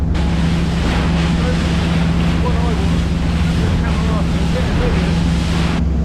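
Boat out on choppy water: a constant loud wash of engine drone, waves and wind buffeting the microphone, with no letup throughout.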